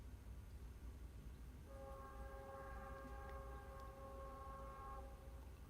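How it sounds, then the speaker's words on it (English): A train sounds its horn in the distance, a steady multi-tone blast lasting a few seconds over a dull rumbling background, faint and far off. "As we enjoy the train in the background"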